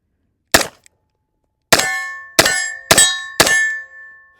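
A MAC 9 DS-D 1911 Comp pistol fires one sharp shot, then four more after a pause. Each loud, close report is followed by a ringing metallic tail.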